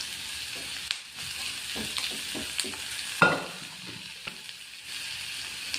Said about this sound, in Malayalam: എന്നിട്ടങ്ങ് നല്ലോണം മിക്സ് ചെയ്ത് കൊടുക്കുക.